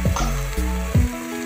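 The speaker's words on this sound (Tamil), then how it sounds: "இப்போ நல்லா ஒரு வணக்கு வணக்கி மஞ்சத்தூளி சேர்த்துக்கிறேன் நான் இதுலேயே." A hotel-style vegetable kurma base sautés in a pan as turmeric is added, giving a close sizzle broken by short scraping and stirring strokes of the utensil.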